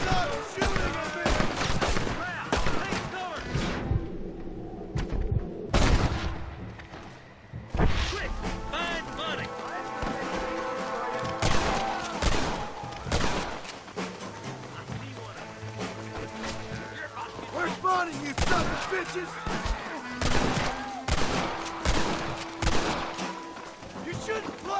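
Repeated gunfire from a Red Dead Redemption shootout over the law, loud shots and bursts throughout, with crashes and a voice speaking at times among the shooting.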